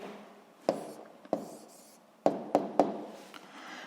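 A pen or marker writes an answer by hand on a surface during a physics lesson, making several sharp taps and short scratchy strokes separated by pauses, close and fairly quiet.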